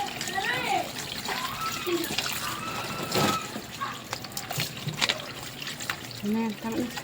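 Water poured and trickling while squid is cleaned, irregular splashes, drips and dribbles close by, with people talking over it.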